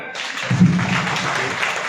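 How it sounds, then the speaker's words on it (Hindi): A seminar audience starts clapping, the applause swelling quickly and continuing steadily. "एक बार जोरदार तालियां आपके"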